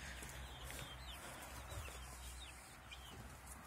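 Chickens cluck and chirp in a steady cluster with a young green-legged partridge rooster among them, the birds close by over a constant low background rumble.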